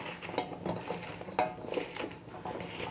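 Seasoned potato chips for homemade crispy fries, coated with gram flour and refined flour, are tossed in a bowl, giving soft, irregular scraping and clinking taps close by with no voices.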